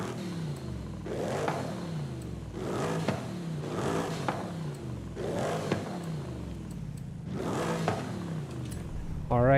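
A German V8 car engine in Forza Horizon 5 revs repeatedly, about five rising bursts with a deep throaty rumble in between, loud and close.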